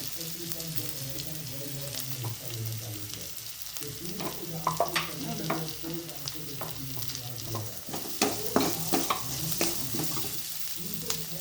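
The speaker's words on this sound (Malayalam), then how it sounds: "ഒരല്പം ജീരകം ഇട്ടിട്ട് അതെല്ലാം ഒന്ന് വാട്ടിയെടുക്കാം നമുക്ക്" Cumin seeds and flax seed chutney ingredients sauté in a hot pan, giving a steady close sizzle with repeated clinks and scrapes of a spoon stirring through, with no talking.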